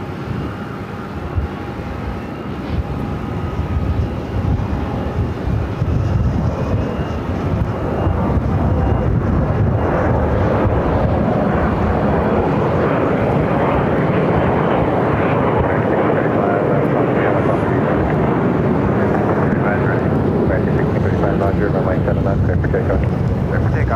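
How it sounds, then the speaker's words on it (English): A Delta Connection SkyWest E-Jet airliner departing for LAX, its jet engines building from a moderate roar to a loud, steady, sustained rush, with a voice talking over part of it. "That was Delta Connection SkyWest Flight 4119, also heading to LAX and then E-Jet."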